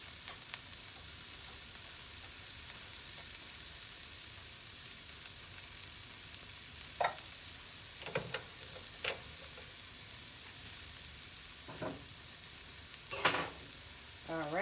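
Onions fry in a pan for risotto with a soft, steady sizzle. Occasional utensil taps and scrapes come in the later half, all fairly quiet and without talk.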